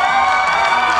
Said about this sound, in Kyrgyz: Кол чабалар.